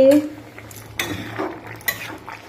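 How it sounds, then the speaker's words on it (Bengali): A spoon scrapes and knocks around a metal pot as eggplant curry is stirred, with a few sharp clinks over a faint background hum. "এখন আমি একটু নাড়িয়ে জল দিয়ে দেবো"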